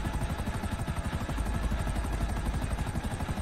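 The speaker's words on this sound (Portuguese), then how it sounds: "Olha o avião aqui, meu!" Aircraft engine in GTA V, a loud, close, rhythmic chopping drone pulsing steadily throughout with no voices over it.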